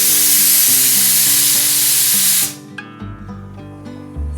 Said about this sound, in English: wait for the first whistle.